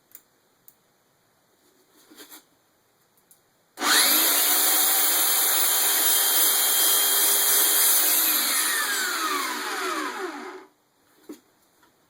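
Northern Industrial 56245 portable band saw cutting through stock, a loud sustained whine and grind lasting about seven seconds, with quiet handling noises before and after.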